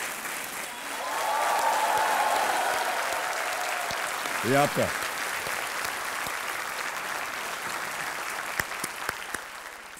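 Studio audience applause on a quiz show rises and fades behind a host's speech, with a brief spoken phrase and a clear voice passing midway while clapping continues softly underneath.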